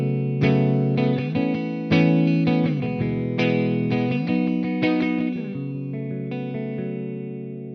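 A Gibson ES-335 electric guitar runs through a USA Clean amp model at stock settings, playing a loud, clean phrase of plucked single notes and chords that ring and decay one after another, with no talking.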